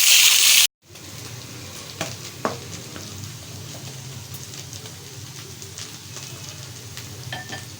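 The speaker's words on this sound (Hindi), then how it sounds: "भिंडी फ्राई हो रही है अच्छी तरह।" Okra (bhindi) frying in oil in a pan: after a brief loud burst and a cut, a steady close hiss of sizzling oil runs throughout, dotted with a few light clicks and stirring scrapes, with no one speaking.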